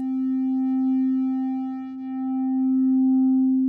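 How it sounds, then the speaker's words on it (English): A subtractive synthesizer holds one steady tone while its shape knob is turned, the waveform smoothing toward a pure sine wave, sustained and clear with a slight dip in loudness midway. "it almost becomes what we call a sine wave"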